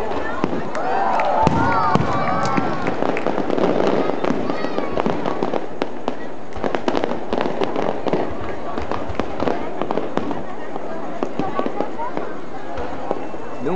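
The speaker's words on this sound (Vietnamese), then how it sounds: "Đây như kiểu pháo xịt ấy." Fireworks at the Thang Long 1000-year festival in Hanoi crackling and popping in dense irregular bursts, loud and close, with people talking over them and a crowd murmuring.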